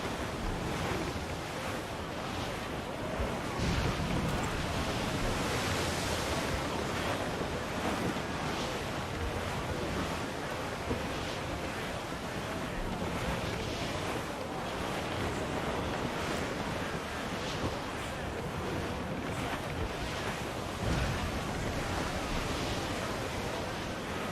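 Stormy open sea in Assassin's Creed 4 Black Flag, a loud continuous roar of wind and crashing waves around a sailing ship, broadband and unbroken for the whole stretch.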